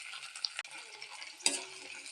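Chillies and shallots fry in a pan with tamarind while garlic chutney is prepared, giving a quiet, steady sizzle broken by two sharp stirring scrapes.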